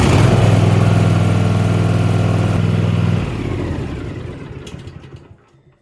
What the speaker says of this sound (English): Now we'll start and run the engine for a moment.